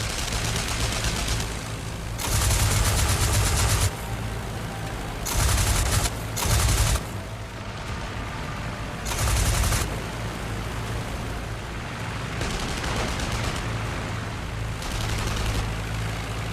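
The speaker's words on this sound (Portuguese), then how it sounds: "Göring disparou sua metralhadora e abateu o SC-5" Bursts of machine gun fire in a WWI aerial dogfight come in loud, dense volleys of several seconds each, set against a continuous droning roar.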